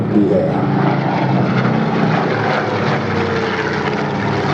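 A Griffon-engined propeller warbird at the Duxford Flying Legends airshow passes close by, its loud, throbbing engine roar filling the air steadily throughout.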